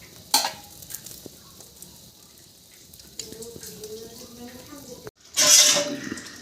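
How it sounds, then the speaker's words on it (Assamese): Fish boiling in water in a pot in a home kitchen, making a low continuous bubbling and simmering with occasional clinks and a louder splashy burst near the end, while a voice talks. "মাছটো প্ৰায় বইল হৈ গৈছে, অলপ ভাল বইল হৈ গ'ল"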